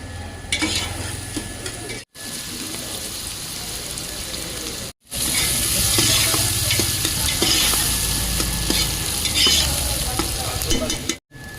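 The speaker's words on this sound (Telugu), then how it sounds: "ఆయిల్ మరిగాక ఉల్లిపాయలు పచ్చిమిర్చి వేసుకోవాలి." Onions and green chillies frying in hot oil in a Telangana-style home kitchen: a steady, close, dense sizzle with stirring scrapes, broken by a few short cuts, then louder crackling spitting throughout.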